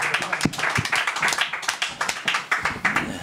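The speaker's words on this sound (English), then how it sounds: "Make some noise for Gabe Corser, everybody." A comedy club audience claps for comedian Gabe Corser, a small room's worth of close, irregular hand claps with sharp individual slaps, fairly loud and sustained without talk over it.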